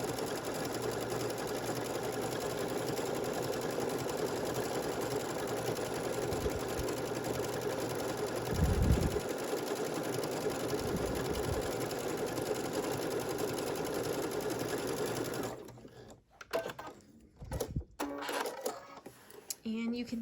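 A sewing machine with a blind hem foot runs steadily, stitching a pocket onto a quilt, a continuous close mechanical whir for about fifteen seconds before it stops, followed by brief handling noises.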